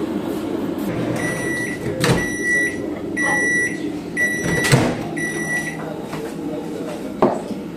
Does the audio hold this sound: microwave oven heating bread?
yes